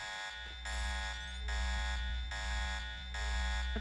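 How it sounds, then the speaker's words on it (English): Shrill electronic alarm from the video game Deus Ex Revision, pulsing in a steady repeating on-off pattern at moderate level with a constant buzzing drone underneath. "Oh, that beeping's really annoying."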